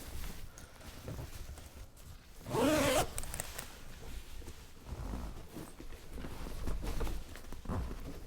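A zipper on a Peak Design medium packing cube catching, one loud rasping zip burst partway through, surrounded by quieter fabric handling and rustling.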